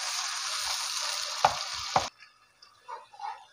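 Tomatoes and whole green chilies frying in a pan give a steady, close sizzle with a couple of sharp clinks from stirring; the sizzle cuts off abruptly partway through, leaving faint scattered sounds.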